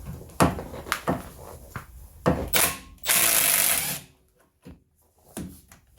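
A 1/2 inch impact wrench works on caliper carrier bolts of a Renault Trafic during a wheel bearing job, giving short loud rattling bursts, with one longer sustained burst near the end and quieter clicks between.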